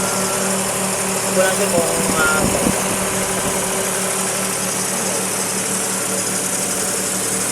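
A Daihatsu Charade car engine idles steadily after a new electric fuel pump was fitted, a continuous low hum with a brief clatter near the start, while someone talks over it.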